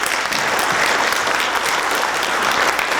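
Loud, sustained applause from a crowd at a lifetime achievement celebration, a dense wash of clapping hands that stays full and steady from start to finish with no speech over it.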